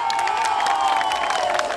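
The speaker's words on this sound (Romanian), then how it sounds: "Aplauze pentru Oravița!" Crowd cheering and applauding at a Ruga Oravița 2010 village festival concert, a dense continuous roar of voices and claps with scattered shouts, loud and steady throughout.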